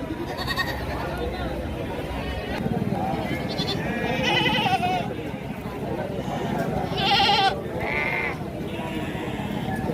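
Goats bleat in a crowded livestock market at Gangadhara, Telangana. Several wavering calls come at different distances over constant crowd chatter, with people talking throughout.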